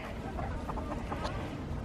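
Several soft, short clucks from a hen in a backyard flock during molt, scattered over steady low background noise at moderate distance.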